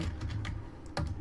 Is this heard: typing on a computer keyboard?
yes